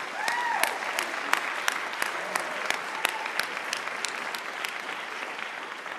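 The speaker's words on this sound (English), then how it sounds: "how about another round of applause for the students on the stage" Christmas concert audience applauding a student band, a steady wash of many hands clapping at moderate distance, with a few sharper nearby claps popping out above the even crowd texture.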